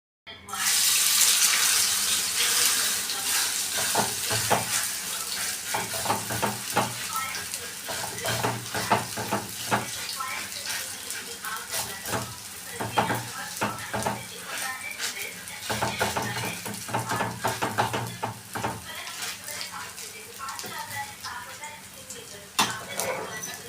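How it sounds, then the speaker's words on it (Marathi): Bread batter hisses and crackles steadily on a hot tawa griddle, with occasional scraping of a spoon spreading it, close and continuous, while a voice talks over it. "हे मिश्रण जेव्हा आपण तव्यावर टाकतो ना तेव्हा होता होईल तेवढं त्याला ना चमच्याने असं पसरावून"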